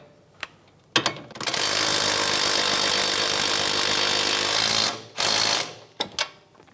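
A power tool, likely an impact wrench, runs in one sustained burst of about four seconds to snug a sway bar link nut on a 2010-2015 Lexus RX350 front strut assembly, followed by a shorter second burst and a few clicks.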